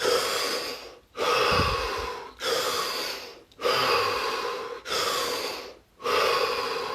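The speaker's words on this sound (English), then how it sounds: "we're going to take 3 deep breaths" Slow deep breaths during a guided relaxation session: several long, close inhale and exhale cycles with brief pauses between them.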